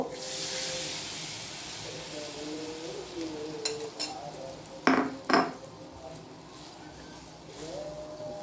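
Sauce mixture poured into a pan of fried garlic, bursting into a loud sizzling hiss that fades, followed by a few spoon clatters against the pan while someone talks.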